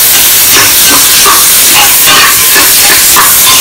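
Green chillies frying in hot oil in a pot for plain kuska biryani give a loud, steady, close sizzle and hiss with no break and no voices.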